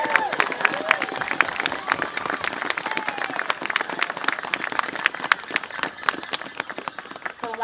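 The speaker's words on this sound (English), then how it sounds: "Give them a round of applause, guys." An audience claps and cheers together after a list of names is read out, sustained applause with scattered sharp claps and some crowd voices running steadily throughout.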